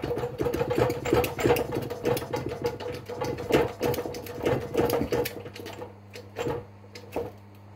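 Hand-pumped dimpling tool working a hole in a steel seat box panel during a Ford Escort MK1 restoration, giving a run of quick close mechanical clicks and clunks in an uneven rhythm that ease off near the end.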